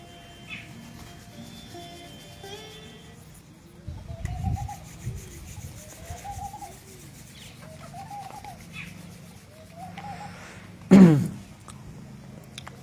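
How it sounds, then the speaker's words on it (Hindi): Both palms rubbed briskly together during a guided naturopathy yoga session, giving soft, close, dry swishing bursts that swell in the middle and flare sharply near the end over a quiet room. "दोनों हाथों को पहले रब करेंगे, गर्दन की मसाज देंगे"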